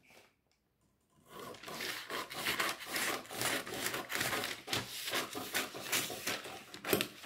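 Fabric being cut for a djellaba pattern, a run of close, dry rasping snips and rustles that starts after a brief silence and continues in uneven bursts.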